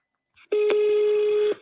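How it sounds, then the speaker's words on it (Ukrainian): An outgoing telephone call gives a single steady ringing tone, loud and close, about one second long, just after a brief blip. "Дзвінок іде."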